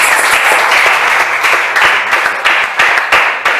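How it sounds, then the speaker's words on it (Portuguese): Congregation applauding during a Thursday evening church service in Alto Vera Cruz, Belo Horizonte: dense, lively clapping with sharp individual claps, steady and close, with no talk over it. "dê uma salva de palmas para o Senhor"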